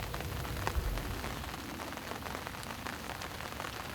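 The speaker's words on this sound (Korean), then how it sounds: "어둠이 깔리고 밤낚시를 해볼까 했더니 또다시 비가 내립니다." Rain falls at night at a flooded-tree fishing spot, a steady, even hiss of drops on surfaces, faint and continuous with no voices.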